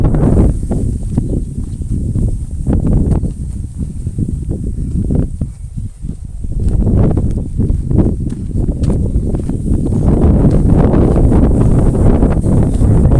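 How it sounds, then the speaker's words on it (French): Strong wind buffets an outdoor microphone in continuous loud rumbling gusts, steady throughout with a brief lull midway and no speech. "Ça souffle très fort d'un seul coup."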